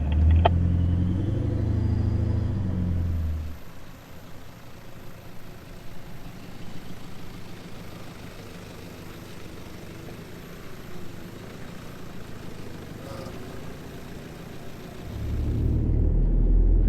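A 4WD vehicle driving over white sand on Fraser Island gives a steady low engine rumble and road noise that swells loud at the start and end and stays quieter through the middle; no talking.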